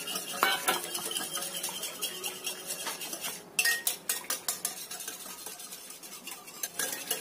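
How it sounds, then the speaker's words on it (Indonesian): A spoon stirs muffin batter in a bowl until evenly mixed, giving continuous close scraping and repeated clinks against the bowl in an uneven rhythm, with no talking. "Aduk sampai tercampur rata"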